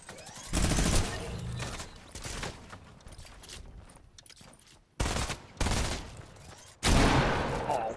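Pump shotgun blasts in a video game, several loud booming shots in separate bursts with quieter gaps of game ambience between them.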